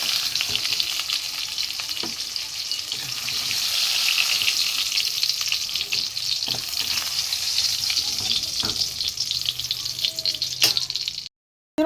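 Steady crackling sizzle of pointed gourd frying in oil, a dense hiss with occasional sharper pops, close and continuous until it cuts off near the end.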